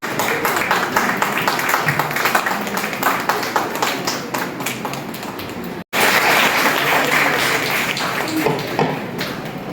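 A student convention audience breaks into sustained applause, many hands clapping densely and loudly for several seconds, with a brief cut midway before the clapping resumes, and some voices mixed in underneath.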